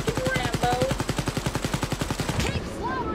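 Sustained automatic weapon fire in the shooter game Wolfenstein: Youngblood, a loud, evenly spaced stream of rapid shots that rattles on for several seconds before trailing off.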